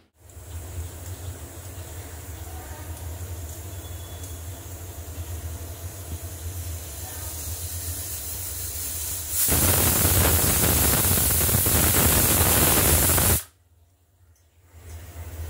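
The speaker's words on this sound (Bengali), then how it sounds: "আর এর মধ্যে একটু সর্ষের তেল দিয়ে এটাকে আমি প্রথমে স্টিম দিয়ে নেব।" Food being steamed with a little mustard oil for Uttar Pradesh-style sattu kachori gives off a loud, steady hiss that swells sharply partway through, then cuts off abruptly, leaving a low background hum.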